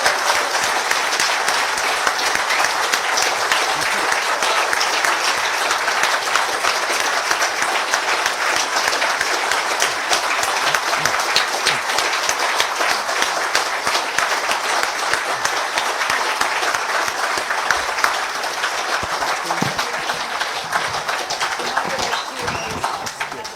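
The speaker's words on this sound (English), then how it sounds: "may I ask you for a round of applause for our panel of distinguished guests" A hall full of people gives a sustained round of applause for a panel of distinguished guests, a dense, steady wash of clapping that stays loud and even for over twenty seconds.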